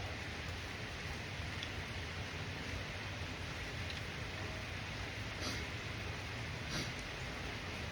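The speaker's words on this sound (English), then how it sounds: "The rain's starting to come down now." Steady rain falling, a dense even hiss throughout with no voices, a couple of faint brighter ticks near the end.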